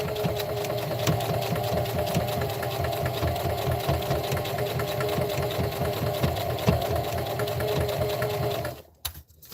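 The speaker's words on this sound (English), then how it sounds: "I'm going to proceed to stitching all the way around" Sewing machine running steadily, stitching around the edge of a pad made from a Dollar Tree dish drying mat, a continuous close mechanical whir with fast needle rhythm for about nine seconds before stopping abruptly.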